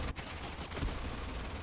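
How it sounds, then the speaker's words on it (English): Auto cannons firing in the sci-fi strategy game Age of Wonders: Planetfall, a dense, continuous burst of rapid gunfire filling the short stretch at moderate loudness. "Auto cannons, go!"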